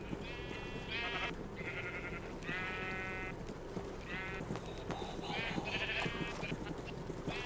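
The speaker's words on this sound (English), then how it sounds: "Dancing sheep!" Minecraft sheep bleating repeatedly in a game, several close wavering baa calls in short bursts, one after another over a low background hum.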